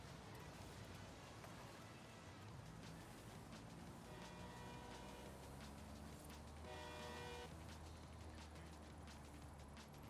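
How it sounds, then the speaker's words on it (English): A train rumbles past in a snowy video game, its horn sounding in two short bursts midway over a steady mechanical roar and background game noise. "I'm just saying hello to the train."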